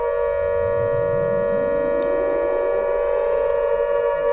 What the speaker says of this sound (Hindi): धमाकों और सायरन्स की जो आवाज है वो लगातार अब भी सुनाई दे रही है।